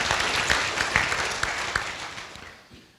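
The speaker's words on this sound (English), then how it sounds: "So how about a round of applause for all the great things that Gene has done for the community." Applause for a retiring community member at a local officials' forum, a dense crowd clapping with a few sharper claps standing out, then tapering off toward the end.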